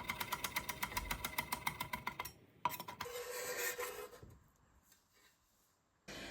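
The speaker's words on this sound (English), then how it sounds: "Grating the onion also adds a lot of moisture" An onion is grated by hand for Greek keftedes meatballs, with quick rhythmic rasping strokes that stop partway, then a clatter and a few softer scraping sounds, fairly quiet overall with no speech.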